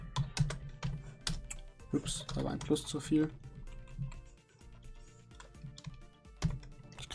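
Rapid clicking keystrokes on a computer keyboard during Java programming, coming in quick bursts with brief pauses, close and clear, while someone talks over them.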